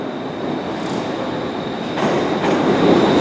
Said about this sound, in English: Got another Class 380 ScotRail service.